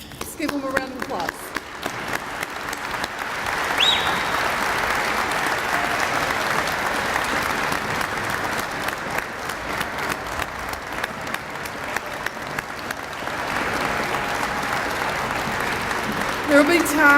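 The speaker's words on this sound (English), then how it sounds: "Let's give them a round of applause." An outdoor crowd at a highway dedication for the new US 460 applauds steadily for well over fifteen seconds, a dense even wash of clapping with a brief swell near the end.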